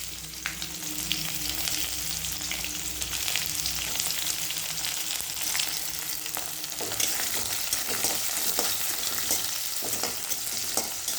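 Onions frying in hot oil in a pan for a prawn and bottle gourd curry, a steady close sizzle with scattered crackles and occasional stirring scrapes throughout.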